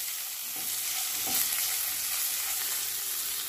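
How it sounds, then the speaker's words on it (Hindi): A tadka tempering sizzles in a pan over a semolina breakfast dish, a steady close hiss of frying with faint crackles and stirring, continuous for several seconds with no voices. "ये देखिए नाश्ते में हमने छौंक लगा दिया है"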